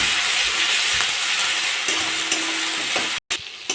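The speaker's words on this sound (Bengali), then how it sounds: "আদা রসুন দিয়ে ভালো করে ভেজে নিয়েছি" Onion and ginger-garlic paste frying in a pan for a potato and rohu fish curry, a steady close sizzle and hiss with light stirring scrapes, broken by a brief silence near the end.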